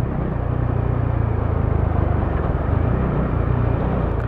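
A stock Subaru XB car engine runs with a steady, fairly loud low rumble that holds even throughout, with no talking over it.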